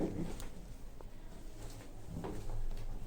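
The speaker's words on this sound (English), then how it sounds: "Doors opening." Otis Europa 2000 car park lift doors at a Dublin shopping centre sliding open, a quiet low rumble with a couple of faint thumps and clicks in a hushed space.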